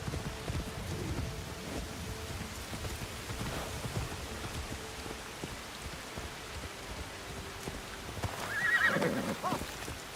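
A horse in the video game Assassin's Creed Shadows gives a loud whinny near the end after a stretch of soft hoofbeats, set against a steady patter of rain.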